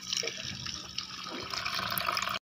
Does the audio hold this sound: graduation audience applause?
no